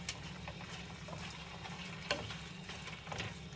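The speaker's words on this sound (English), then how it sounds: "It says stir occasionally, so that's what I'm doing" Taco meat is stirred in a pan, giving a soft steady sizzle with scraping stirs at intervals, fairly quiet and close, with no talking.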